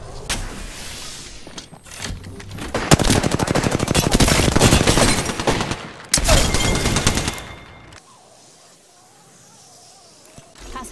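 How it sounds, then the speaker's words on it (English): Sustained automatic gunfire in Apex Legends: dense, loud bursts of rapid shots building to a heavy volley, a short pause, then another burst before fading to quieter game ambience with faint voice. "I'm getting shot at"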